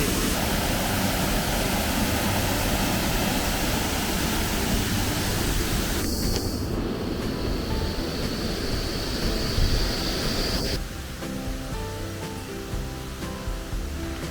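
A forest waterfall in the Zao foothills near the Chikusenso hot spring in Miyagi, Japan, gives a steady, dense roar of falling water, loud and unbroken for the whole stretch, dropping slightly in level near the end.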